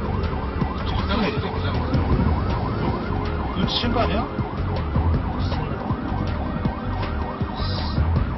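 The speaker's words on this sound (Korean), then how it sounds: "이송 차량이 사이렌을 울리며 속도를 높이기 시작합니다" An emergency transport vehicle's siren wails in a steady repeating up-and-down cycle, loud and close, over engine and road rumble as the vehicle speeds up, with a brief spoken remark partway through.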